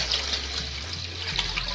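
Water running and pouring into a cooking pot, roughly four litres being added for a herbal shampoo brew, a steady mid-level splashing flow that continues throughout without any talk.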